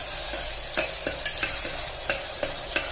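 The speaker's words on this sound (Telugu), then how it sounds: "టమాటాలు వేస్తున్నా టమాటాలు కలుపుకోవాలి" Tomatoes are stirred into frying Telangana mutton curry, giving a constant hissing sizzle marked by a regular patter of spoon scrapes against the pan. No one speaks.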